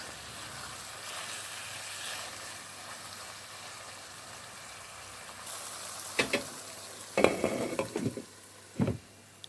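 Spice paste for Manado-style woku with turmeric leaves fries in a pan under a steady sizzle, then a spatula scrapes and clatters around the edges in several bursts, up close.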